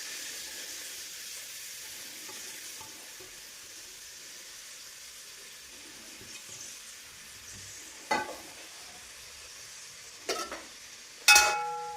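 Onions, garlic and curry leaves fry in coconut oil with a faint, continuous sizzle, broken near the end by a few louder clinks and scrapes of stirring.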